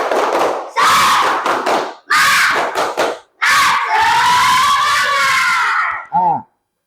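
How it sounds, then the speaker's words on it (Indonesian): Schoolchildren in a classroom perform the tepuk semangat clapping chant, bursts of loud group chanting and rhythmic clapping in several phrases, ending with a short shouted call. "Nah, tepuk semangat dulu. Tepuk semangat."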